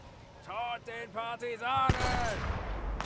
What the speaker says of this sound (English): they got a firefight going on